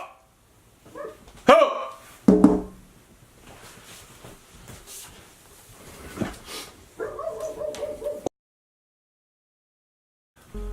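Dogs bark in a few sharp bursts early on, mixed with someone shouting at them and other room noise before a brief silence.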